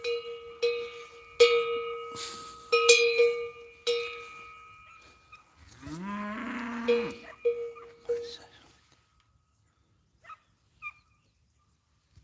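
Cows on a Spanish hillside farm, one of them injured: metallic cowbells clank in uneven bursts, a single deep moo sounds mid-way, then the bells thin out to sparse, faint clinks.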